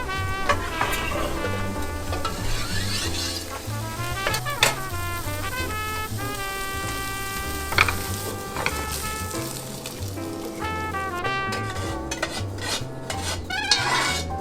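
Spam sizzles and crackles steadily in a hot pan as fried rice is made, with occasional clinks from a utensil over the frying and tonal background music running throughout.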